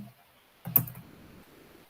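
Keyboard shortcut keys pressed while editing in Photoshop: a faint tap, then a sharper cluster of clicks mid-clip trailing into light clattering, close and quiet with no voices.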